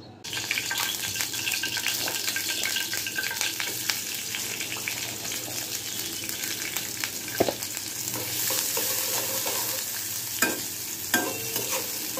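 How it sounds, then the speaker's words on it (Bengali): Chicken koftas frying in a pan while being stirred, a continuous close sizzle with repeated scraping and clinking of the spoon, a few sharper knocks standing out along the way. "এবার কোপ্তাগুলো রান্না করে নিচ্ছি।"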